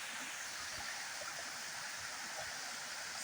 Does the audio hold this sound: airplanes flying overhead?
no